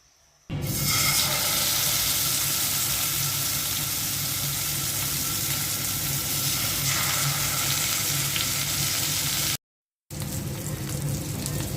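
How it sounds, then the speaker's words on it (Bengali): Hilsa fish frying in mustard oil, a loud, steady crackling sizzle that starts abruptly and runs nearly unbroken, with one brief cut to silence near the end before the frying resumes. "সরিষার তেল দিয়ে ইলিশ মাছটা ভাজবো।"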